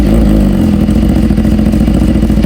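Suzuki GSX-S750 motorcycle with a cat delete exhaust, idling up close with a loud, continuous, rough low rumble and constant clatter.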